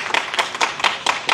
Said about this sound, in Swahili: Jipigieni makofi mengi sana.